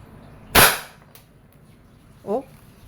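A Wingun 708 airsoft revolver fires a steel BB in single action, one sharp, loud crack followed by a short decay, then a brief fainter metallic click about two seconds later.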